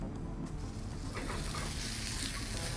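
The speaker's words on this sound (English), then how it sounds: "then we'll take our tomatoes and just quick saute them right in here" Tomatoes sautéing quickly in a pan, a dense steady sizzle with soft stirring scrapes, close and continuous with no talk.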